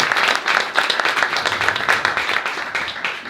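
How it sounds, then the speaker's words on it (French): Audience applause at a French conference on digital technology and energy efficiency in buildings, a room full of people clapping with steady, moderately loud rhythmic claps that slowly taper off toward the end. "Merci beaucoup Roland Marion, si vous voulez bien applaudir."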